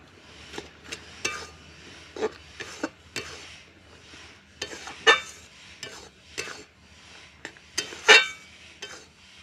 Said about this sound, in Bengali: এবার আমি দিয়ে দেবো মাছের মাথাগুলো যে ভেজে রেখেছিলাম, সেই মাথাগুলোকে দিয়ে দেবো।